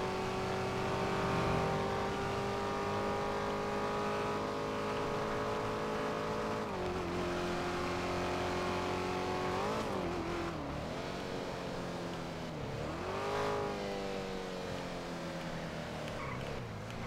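A Porsche engine driving in a video game, a steady, sustained drone with engine pitch dipping and rising around two gear changes, constant and fairly loud throughout with no talk over it.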